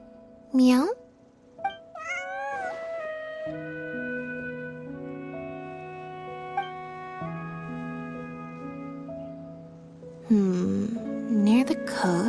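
A cat meowing in the Genshin Impact video game, several short meows with a rising, whiny pitch near the start and again near the end, set against sustained game music and talk.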